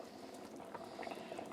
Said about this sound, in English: So I added my beef back into my broth, got it boiling away.